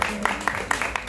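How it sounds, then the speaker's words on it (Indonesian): Brief applause at a film press conference for a cast member's birthday, a group clapping in quick scattered beats under a murmur of room noise. "boleh tepuk tangan untuk Agni yang ulang tahun lo dia lo"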